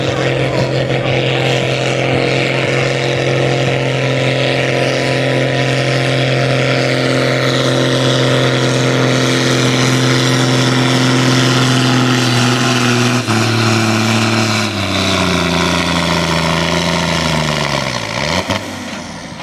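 An agricultural tractor in a pulling contest in the sport class up to 5100 kg at Oudenbosch roars loudly and close at sustained high revs, then the engine note drops and bogs down near the end.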